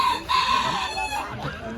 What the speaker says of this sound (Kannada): ಆಂಧ್ರ ಕೋಳಿ.